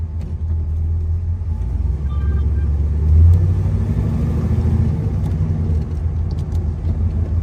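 A muscle car drives along with its engine rumbling low and steady, swelling a little midway, close and continuous with no talk over it.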